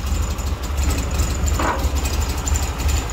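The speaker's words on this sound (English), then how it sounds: "Might be able to hear a knocking sound there." A 1973 VW GT Beetle engine idles close by with a steady, pulsing air-cooled rumble and a faint repetitive knock or tick riding on it, no voices present.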